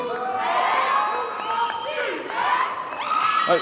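A crowd at a 2015 art university graduation ceremony cheers and whoops loudly for a graduate, with shouts and high excited voices rising and falling throughout.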